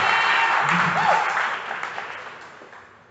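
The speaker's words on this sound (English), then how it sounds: "Give him a round of applause." Audience clapping at a 2018 open weightlifting meet, a dense crowd applause that stays steady and then gradually fades toward the end.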